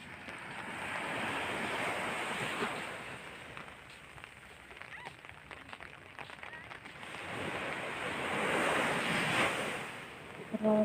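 Ocean waves wash onto Repulse Bay beach in Hong Kong on a rainy Saturday, a broad hissing surf that swells and fades in two long surges, with wind buffeting the microphone.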